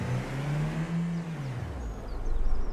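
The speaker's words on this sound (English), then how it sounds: "Don't drive the car into the water." A car engine drives in Farming Simulator 25, a loud steady hum that rises and then falls in pitch like easing off the throttle, followed by rougher low rumble and noise near the end, with no talk.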